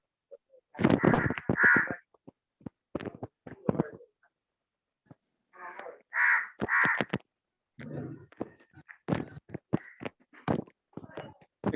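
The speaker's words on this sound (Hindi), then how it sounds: "कौवा कहाँ से बोलने लगा?" A crow caws in repeated harsh bursts, close and loud, some calls in quick series, over several seconds with pauses between them.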